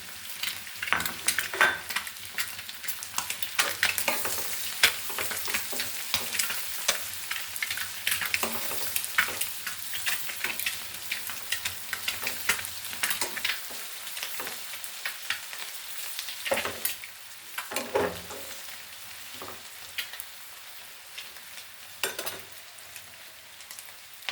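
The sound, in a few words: egg bhuna frying in pan with green chilies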